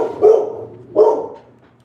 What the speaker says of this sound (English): I'm gonna wait for her to stop barking.